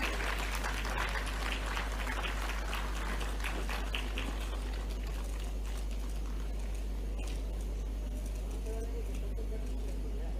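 Audience applause welcoming the release of a booklet for a 100-day Nikshay camp campaign at an official function, dense clapping at first that thins and fades over a low steady hum, with faint voices beneath.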